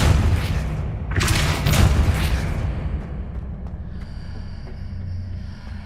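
A Depulso spell blast cast in the video game Hogwarts Legacy: a loud, broad whooshing burst of about two seconds with a low thudding boom, then a fading rumble and a faint tonal shimmer.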